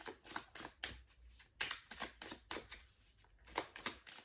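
Tarot cards are riffled and shuffled quickly in repeated bursts, a crisp flapping patter close by, with short pauses between shuffles and no voices.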